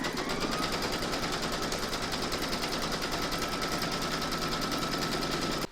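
A home embroidery machine stitches a round-one batting placement outline on an in-the-hoop baby scan photo frame project, giving a steady, close, loud rapid needle rattle that runs on without pause and stops abruptly at the end.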